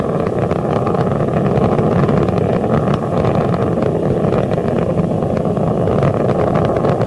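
Space Shuttle Atlantis roars steadily during launch as its three liquid-fuel main engines throttle back, a loud, dense, continuous rumble with no pauses and no voices over it.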